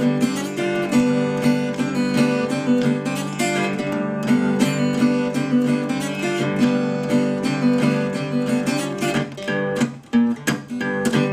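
The full acoustic guitar break of a song played from the start, a driving Delta blues pattern of repeated picked notes and strums, close and unaccompanied, with a short pause near the end.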